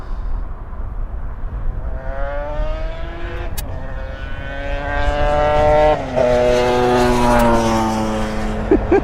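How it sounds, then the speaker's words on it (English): Cars pass on a road just below an airport viewing spot, their engine whine rising and shifting in pitch as they go by, moderately loud and continuous, with no talking. "every now and again, in fact, all too often, you hear the cars going by"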